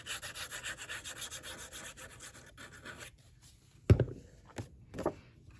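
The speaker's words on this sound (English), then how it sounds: "So I'm gonna go ahead and burnish that." A scored paper fold for a mini album being burnished, heard as steady rapid rubbing strokes for about three seconds, then a few sharper taps and brushing sounds, close and fairly quiet.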